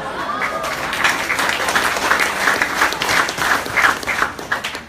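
An indoor audience at a product presentation claps steadily, a dense wash of applause that swells and dips.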